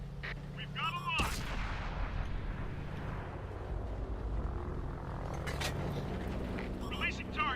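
Heavy gunfire in a video game featuring the Type 58, with a sharp blast near the start and then rumbling, sustained booms and crackling shots while voices talk over radio-style chatter.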